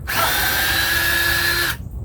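A power drill with a 3/8 inch bit whines loudly and steadily through wooden boards for nearly two seconds, then cuts off abruptly, close and alone.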